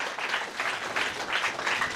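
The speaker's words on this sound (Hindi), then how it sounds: "जोरदार ताली हो जाए प्लीज" An audience claps enthusiastically for a teacher at a record-setting memory event, a thick burst of applause with rippling surges in intensity, close and loud, no speech over it.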